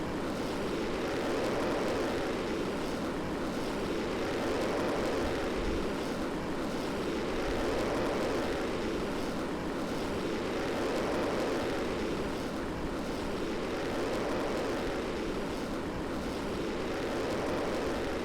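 Rocket engine roaring through ignition and launch in the Kerbal Space Program game, a dense, steady, unbroken rumble at strong level for the whole stretch, with no voices.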